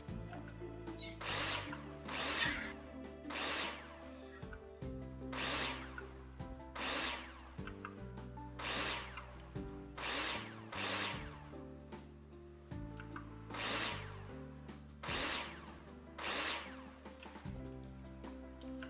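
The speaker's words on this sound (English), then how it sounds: "the drill." A power drill in the video game Builder Simulator whirs in repeated short bursts, each spin-up followed by a pause, in a steady rhythm throughout while building a house.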